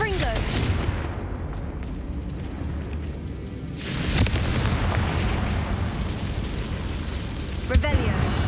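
Confringo blasting spell in Hogwarts Legacy set in a mine tomb: a loud burst at about four seconds swells into a rumbling, crackling blast over steady game ambience, with a voice calling out beforehand.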